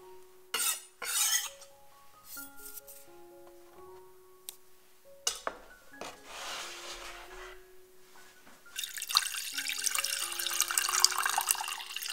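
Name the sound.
water being added to a small pot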